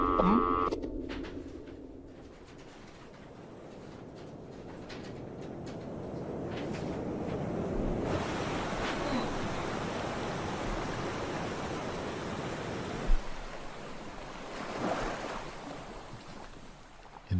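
Ocean waves on a summer day: a steady, broad surging wash that rises and falls, with bird cooing mixed in.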